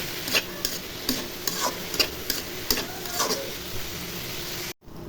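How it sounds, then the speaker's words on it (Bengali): Carrot fry with onion stalks is stirred in a pan over a low steady sizzle, with a string of regular scraping strokes roughly every half second, close by, then a brief cut to silence near the end. "ভাজিটা নেড়ে ছেড়ে দিই।"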